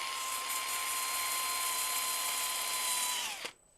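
A power drill whirs steadily and loudly in a workshop, a sustained high-pitched whine that runs for about three and a half seconds before spinning down abruptly to near silence.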